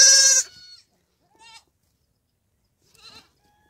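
Goats bleat in an African desert village at morning: one loud, close bleat opens, followed by two fainter, shorter bleats spaced about a second and a half apart, with quiet between.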